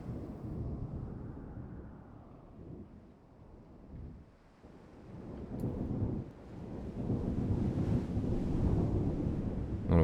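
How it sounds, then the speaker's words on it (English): A thunderstorm at sea in the naval strategy game Ultimate Admiral Dreadnoughts, with deep rolling thunder rising and fading over a steady wash of wind and rain, heard alone without talk. "And of course, there is a storm, making things a bit more difficult."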